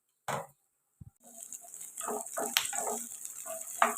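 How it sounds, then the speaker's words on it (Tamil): Small onions sizzle in a little oil in a pan, a soft steady frying hiss with scattered crackles and stirring taps after a few brief clinks at the start. "அதே பேனில் கொஞ்சமாக எண்ணெய் விட்டு மீதி எடுத்து வச்சுருக்கிற சின்ன வெங்காயத்தை சேர்த்து நல்லா வதக்கிக்கலாம்"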